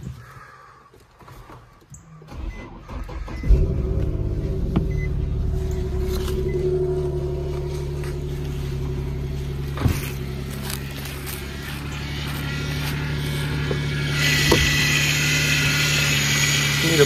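An Infiniti G37 engine, in need of a power steering pump, catches and settles into a steady, close idle with a low hum, an occasional click and a slight rise near the end.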